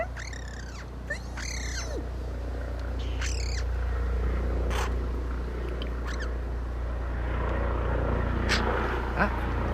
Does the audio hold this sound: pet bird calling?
yes